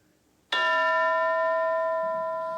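A school bell gives one sudden loud metallic strike in a classroom setting, then rings on with a long, steady, slowly fading tone and no voices over it.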